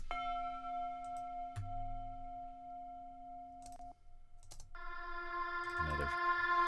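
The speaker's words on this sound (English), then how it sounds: "Got this Tibetan bell thing." A sampled Tibetan bell rings within a music track, sustained tonal strikes layered with clicks and a low pulse. A brighter bell tone enters near the end, moderately loud and alone without talk.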